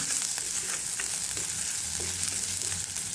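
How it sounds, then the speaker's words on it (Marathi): Thick gravy roasting in an iron wok for a potato curry, giving a steady close sizzle and hiss with soft scraping stirs throughout, no voices. "आता ही ग्रेव्ही चांगली भाजून घेते मी."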